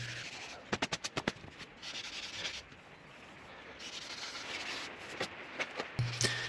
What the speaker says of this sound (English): It does all the sanding up to the feature line